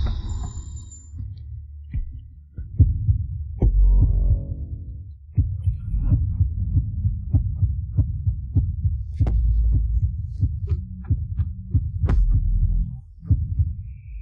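A heartbeat sound effect in a drama, loud low thumping beats in a steady rhythm over a dull hum, continuing for the whole stretch without any talk.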